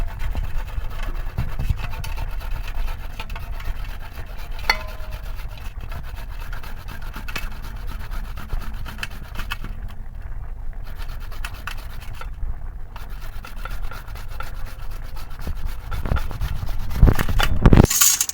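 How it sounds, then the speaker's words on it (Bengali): Winter vegetables are grated on a hand grater in a home kitchen, producing a steady, continuous rasping scrape with even back-and-forth strokes that grows a little louder and rougher near the end, with no voices. "এই যে গ্রেটার নিয়েছি এর মধ্যেই গ্রেট করে নেব"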